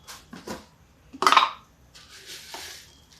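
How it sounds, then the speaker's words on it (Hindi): A handful of broken wheat dalia poured into a pressure cooker with a little ghee gives a brief rattling patter, loudest in one short burst, followed by lighter scraping sounds with no talking. "देखिए 1 मुट्ठी दलिया डाल देते हैं।"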